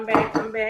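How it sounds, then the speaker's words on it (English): Pans and dishes clink and rattle during home meal prep, with a few quick metallic knocks and clatters in under a second, close and fairly loud. "if you heard pans rattling, if you heard dishes clinking"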